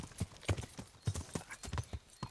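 A horse's hooves clip-clop through water in the medieval game Kingdom Come Deliverance. Close, uneven thudding steps come roughly twice a second, with a splashy edge around each footfall.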